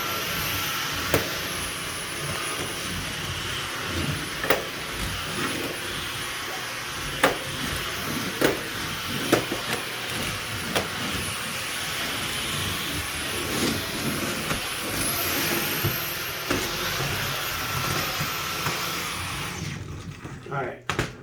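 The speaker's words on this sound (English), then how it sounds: "when it detects a lot of dust, it vacuums it up at really high speeds" A Dyson V15 cordless vacuum cleaner runs at high speed, its steady whine and airflow rush continuous with a few clicks and bumps as it picks up dust, then cutting off at the end.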